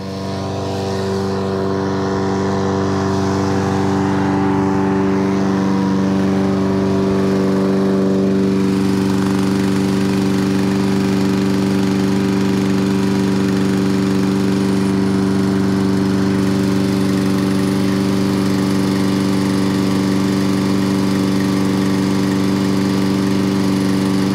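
A Hayter lawn mower engine idles loudly and steadily for the whole stretch, an unbroken buzzing drone with a slight shift in tone partway through; the mower will only idle.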